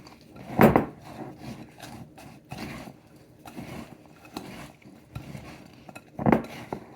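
Oats, cranberries, coconut oil and maple syrup are stirred together in a bowl, with soft scraping and a couple of sharp utensil knocks against the bowl's rim.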